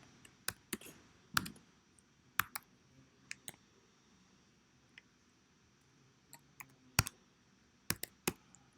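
Someone types letters on a computer keyboard in a quiet room: sparse, irregular crisp key clicks with pauses between them, some strokes louder than others.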